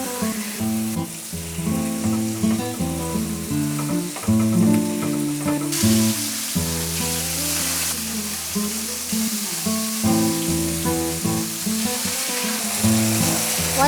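Chicken pieces fry skin side down in olive oil, a steady close sizzle and crackle that keeps going throughout, with music playing underneath and no talking.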